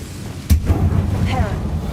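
Two spell blasts, Confringo and Incendio, cast in Hogwarts Legacy: a sharp burst followed by a smaller whooshing pop, then a rising fiery swish, with a voice calling the spell names.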